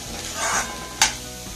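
Vegetables for Hakka noodles being stir-fried in a pan, with a steady close sizzle, a swell of stirring and a sharp utensil scrape against the pan, no voices.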